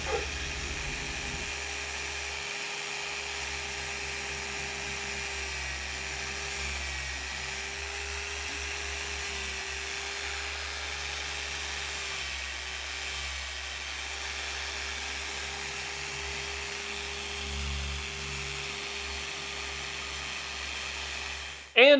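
A Harbor Freight Bauer 6 inch polisher runs continuously, a steady, moderately loud motor drone with a high whine that holds unchanged for the whole stretch.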